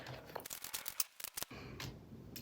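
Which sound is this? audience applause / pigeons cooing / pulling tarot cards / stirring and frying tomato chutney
pulling tarot cards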